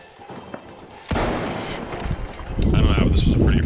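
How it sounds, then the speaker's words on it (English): Video game gunfire breaks out suddenly as a loud, sustained barrage of rapid shots and booming blasts that builds in intensity, with players talking over it. "Shooting at us."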